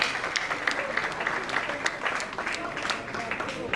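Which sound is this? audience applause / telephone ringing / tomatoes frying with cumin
audience applause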